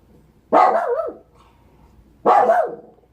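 Two loud, close dog barks, each a single sharp woof, separated by a short quiet pause.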